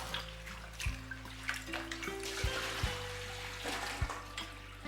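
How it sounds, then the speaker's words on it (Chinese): Shredded lotus root is rinsed in a bowl of water, with close splashing and sloshing and a few hollow knocks against the bowl. "切好泡清水中，加点白醋，防止氧化变黑。 洗去多余的淀粉，再沥干水分。"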